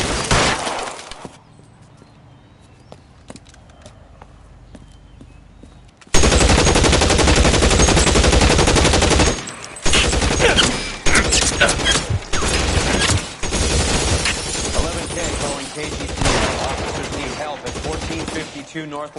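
Loud, dense gunfire from a police shootout in L.A. Noire on PS5, with sustained rapid bursts and scattered single shots after a quieter opening stretch.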